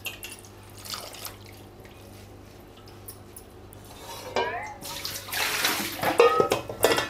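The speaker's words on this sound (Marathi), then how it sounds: "आता मेथीची भाजी कशी पूर्ण माती माती असतात, ती 2-3 पाण्यातून तरी धुवून घेऊ पाहिजे चांगली" Fenugreek leaves being rinsed of soil in a basin of water, with soft splashing and dripping that builds into louder sloshing and clinks of a metal colander toward the end.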